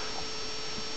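Two 120 mm fans on a large tower CPU cooler with six brass heat pipes spin steadily on an overclocked AMD Phenom II X3 720 computer, producing a constant low, even whir and hum.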